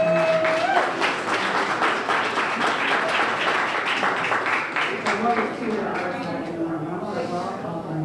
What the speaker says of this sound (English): give another round of applause for Brenda and for Rob as well